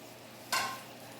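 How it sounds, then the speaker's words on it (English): Beef ribs hit a hot pot and sear, bursting into a sudden close sizzle that fades quickly into a softer steady hiss; no talking. "you can hear it sizzle right away"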